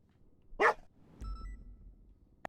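Dog barking in the NoPixel GTA video game, a single sharp bark followed by a low rumbling thud and a faint second yip at the end, no talking.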